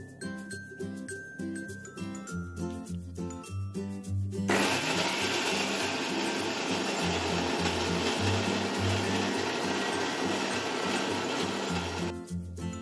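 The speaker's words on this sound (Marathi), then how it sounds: "आता आपण खोबरे मिक्सर मध्ये वाटून घेऊ।" A kitchen mixer grinder whirs loudly and continuously for several seconds grinding dry coconut without water, with rhythmic music playing underneath throughout.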